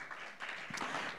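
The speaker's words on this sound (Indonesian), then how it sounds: "Tepuk tangan bagi Allah kita." A church congregation claps together during a worship service, a short, soft burst of mixed handclaps with no voice over it.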